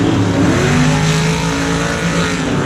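Monster Jam trucks Black Pearl and Grave Digger racing head-to-head in a muddy MetLife Stadium in 2018, their engines roaring loud and continuous, with sustained high revving and no one talking.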